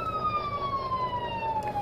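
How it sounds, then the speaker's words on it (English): A fire truck siren in Farming Simulator 17 wails continuously, a single sustained electronic tone sliding slowly downward, loud and close. "Working siren."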